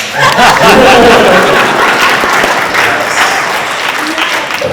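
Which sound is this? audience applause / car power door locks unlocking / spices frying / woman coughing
audience applause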